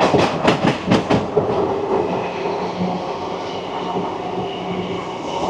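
An Indian Railways train with an ICF rake runs on the Koraput line, its wheels beating out a rhythmic clickety-clack at first, then settling into a loud, steady rumble with wind noise.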